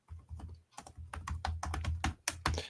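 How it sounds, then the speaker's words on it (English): Rapid, uneven clicking of keys on a computer keyboard, close and fairly quiet, as someone types a short note in bursts. "Sorry, just typing a note here."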